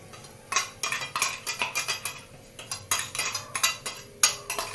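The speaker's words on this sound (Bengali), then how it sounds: "দিয়ে এবার এগুলোকে এর মধ্যে একটু সুন্দর করে ভেজে নেব।" Powdered gatte frying in hot ghee in a pan, stirred with a utensil: a quick regular run of close scraping clinks against the metal, one after another, with no voices.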